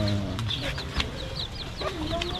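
Small bantam chickens cluck and chirp in short bursts close by, over a low background rumble.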